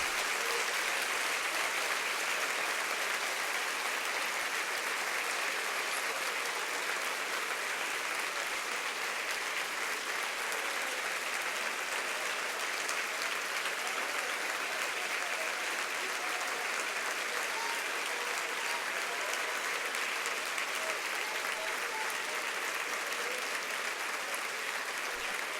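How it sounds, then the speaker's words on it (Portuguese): A church congregation claps together in sustained, dense applause that holds at an even level throughout, a broad wash of hand claps from a large room with no clear talking over it. "Vamos aplaudir o Senhor e celebrar seu nome."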